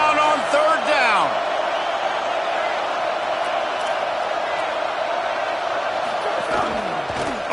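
A stadium crowd at a college football game with the Florida Gators in College Football 25 roars in a loud, sustained wall of cheering. A voice is heard briefly at the start.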